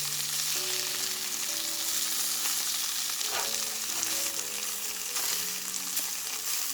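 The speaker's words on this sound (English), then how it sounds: "I still manage to flip them" Spicy catfish nuggets frying in a lightly oiled pan, a soft continuous sizzle with a couple of flipping scrapes, heard under quiet background music.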